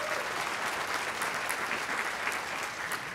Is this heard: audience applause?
yes